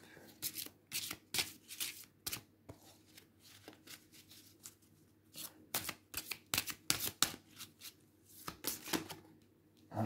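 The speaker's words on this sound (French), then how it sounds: "Et on va rajouter 2 cartes de l'oracle Outre-Chimère pour le groupe numéro 1" Oracle cards shuffled and drawn by hand in a series of crisp riffles and soft slaps, close and fairly quiet, with brief pauses between bursts and no talk in between.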